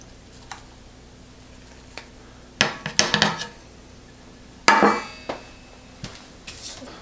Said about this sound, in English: I'm gonna take off the lid for the first time